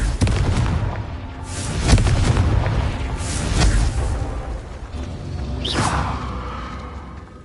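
Confringo fire spell blasts in the video game Hogwarts Legacy, several loud booming explosions with whooshing bursts, close and heavy over a constant rumbling game background, with no talking.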